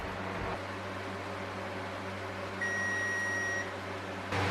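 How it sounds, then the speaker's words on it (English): A kitchen timer beeps during tomato canning, a single steady electronic tone of about a second, fairly clear over a low constant hum of appliance or fan noise. "my timer's going off"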